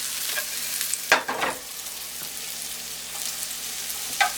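Mushrooms and onions frying with anchovy paste in a pan, a steady soft sizzle with a few louder stirring scrapes and clatters near the start and end.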